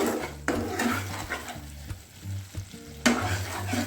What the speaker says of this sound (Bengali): এই পোস্তটাকে ভালোভাবে আমি কষিয়ে নেব